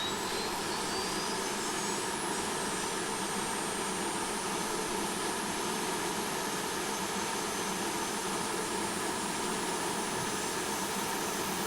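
A BAE Hawk jet in Red Arrows livery spooling up for takeoff in Microsoft Flight Simulator, giving a steady, loud, even roar with a thin high whine rising faintly above it, unbroken for the full length.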